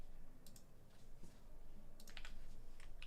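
Quiet, close computer keyboard typing of a short search filter word, a brief run of light key clicks over faint background hum.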